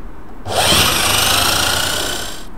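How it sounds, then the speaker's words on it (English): An electric drill spins up to drive a homemade Frenette friction heater, a sharp whine rising and then holding steady for about two seconds before stopping, loud and close, with no voices. "So let's connect the drill up."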